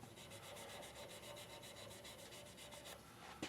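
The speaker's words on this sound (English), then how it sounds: "now I'm sanding those out" Steady rhythmic scratching of sandpaper rubbed by hand back and forth over a wooden shaving brush handle, close and fairly quiet, with no talking.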